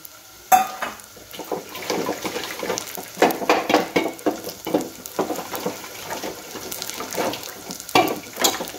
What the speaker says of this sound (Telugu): గోంగూర వంపుకున్న నీళ్ళు కొంచెం పోసుకున్నాం.